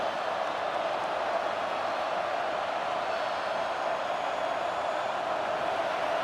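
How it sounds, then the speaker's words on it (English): Stadium crowd noise in the College Football 25 video game, a dense, steady roar of many voices that holds evenly throughout without peaks or pauses. "This crowd trying to make life miserable for this offense."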